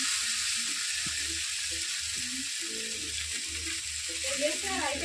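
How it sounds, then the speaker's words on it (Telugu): Sabudana sizzles in hot oil with golden fried onions, a steady close crackle broken by soft irregular stirring taps in the pan, with no talking. "గోల్డెన్ కలర్ వచ్చిన తర్వాత సాబుదానా వేసుకుంటున్నాను"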